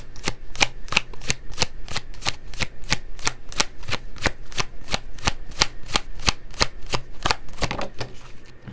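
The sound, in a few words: shuffling tarot cards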